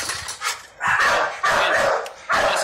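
A pit bull barks repeatedly at close range, several loud barks in an uneven rhythm.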